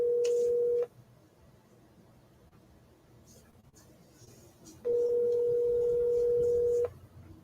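Telephone call tones on a line to a broker: a steady ringback tone sounds for about a second, a quieter stretch of line noise follows, then a second long tone of about two seconds plays, clear and close.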